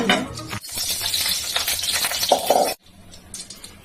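Whole cumin seeds crackle and sizzle in hot oil for a mutta paneer kalia, a loud dense frying hiss with a brief break before dropping off sharply near the end.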